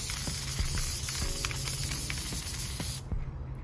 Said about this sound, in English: we are gonna do our last coat of spray adhesive